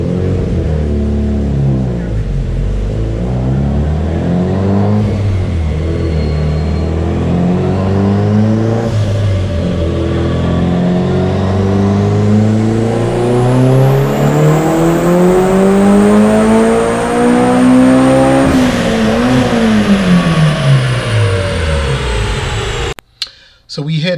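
A Mitsubishi Evo 8 with a BorgWarner EFR 706 turbo, Wiseco pistons and I-beam rods revs loudly and climbs steadily toward redline, its engine pitch rising over about twenty seconds before cutting off abruptly.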